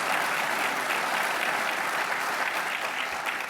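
Sustained applause from a seated audience at a speech, a dense, even wash of many clapping hands at constant loudness, with no voice over it.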